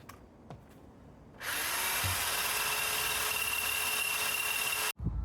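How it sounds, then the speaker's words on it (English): A power drill bores a hole in a cargo bike frame, spinning up after a second and a half into a loud, steady whine that runs several seconds before cutting off abruptly. "Probably one of the worst holes I have ever drilled out."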